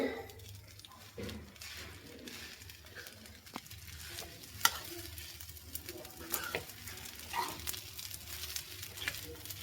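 Chicken fried rice frying in a pan, a continuous crackling sizzle with intermittent scraping and stirring clatters, several sharp utensil taps standing out, moderately close.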